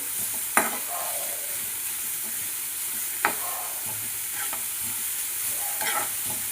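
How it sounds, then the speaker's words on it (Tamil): Grated carrots fry in a pan while a spoon stirs them, with a steady soft sizzle and a few sharp scrapes against the pan spaced several seconds apart. No one speaks. "கேரட்டை சேர்த்துட்டு நல்லா மிக்ஸ் பண்ணிக்கலாம்."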